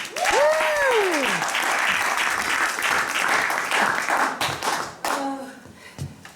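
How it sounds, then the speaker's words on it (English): Studio audience at an improvised dating game show applauds the bachelorette, dense clapping filling the room for several seconds while a voice rises over the start, then thinning out and fading near the end. "Give it one more round of applause for our lovely bachelorette"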